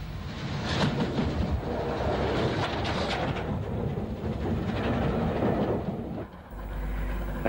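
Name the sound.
Standard Class 5 steam locomotive hauling long train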